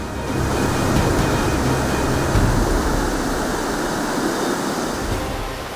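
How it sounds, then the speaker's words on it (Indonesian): A swollen river after days of heavy rain, high and fast-flowing at Bukit Uram, makes a loud, steady, close rushing roar with no break and no voices. "Hujan beberapa hari ini membuat debit air tinggi dan sangat beresiko untuk menyeberangi sungai."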